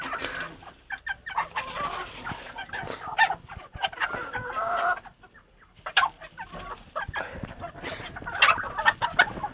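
Chickens clucking and a rooster calling up close, a busy mix of squawks and honk-like cries with brief pauses between bursts.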